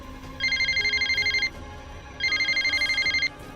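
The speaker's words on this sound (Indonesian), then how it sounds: "Come on guys, cepat angkat teleponnya." A telephone rings in two rapid electronic trilling bursts, each lasting about a second with a short gap between, loud and close with no one talking.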